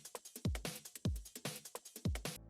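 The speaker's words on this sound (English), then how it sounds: "The last thing is I changed the drum and bass loop up a little bit, and it sounds like this." Drum and bass loop with a booming kick repeating roughly every half second, crisp snare and fast hi-hat hits between, ending abruptly; no speech.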